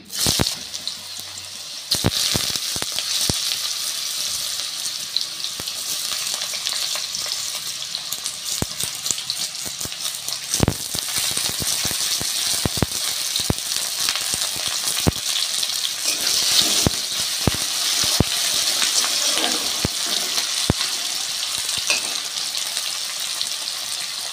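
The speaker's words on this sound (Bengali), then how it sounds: "তেলটা গরম হয়ে গেছে, আমি আলুগুলো দিয়ে দেবো।" Potatoes sizzling in hot oil in a wok give a steady, loud, hissing crackle that runs throughout, with sharp pops breaking through now and then.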